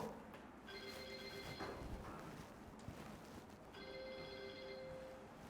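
A mobile phone rings inside a church during a service, two bursts of a bright repeating ringtone over a murmur of room noise and movement.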